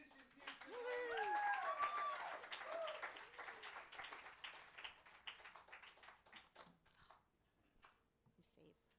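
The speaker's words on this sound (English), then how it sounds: "Let's hear a round of applause for all the musicians here tonight." Audience at an open mic night applauding the musicians, dense clapping with a few whistles and cheers that swells early and then thins out. Voices murmur underneath.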